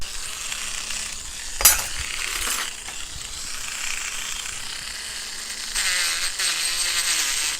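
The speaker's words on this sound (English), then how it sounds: "So I'm holding my Dremel kind of at a side to blend it down into this." A Dremel rotary tool grinds and rounds the edges of a whale tail bangle, a continuous high buzzing whir up close with a sharp knock early on and a louder grinding stretch toward the end.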